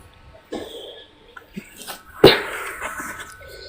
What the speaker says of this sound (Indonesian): Aduh, batuk Ustaz.